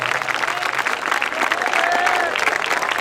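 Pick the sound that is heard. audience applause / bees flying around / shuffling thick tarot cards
audience applause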